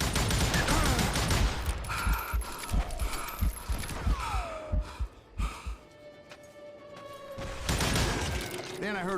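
Gunfire rings out in the Western shooter Call of Juarez: Gunslinger, a run of sharp, loud shots in uneven bursts with mechanical clicks, a whistling ricochet and a voice briefly talking between shots.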